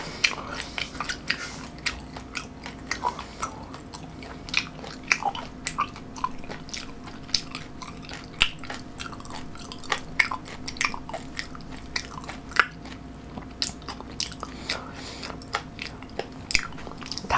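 Kimchi, boiled pork and fermented skate being chewed at close range, with repeated wet bites and crunches in a steady eating rhythm and no talking.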